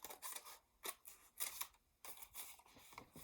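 Scissors snip paper while a paper bookmark is being cut, a quiet series of short crisp cuts in uneven bursts, close and alone.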